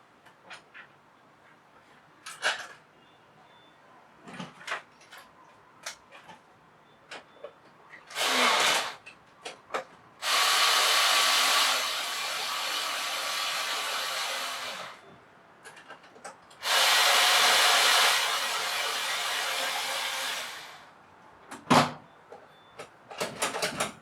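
A power screwdriver drives screws into a door lock handle during a lock installation: a short whir, then two long, loud, steady bursts of motor buzz, with scattered clicks and handling knocks between them and no talking.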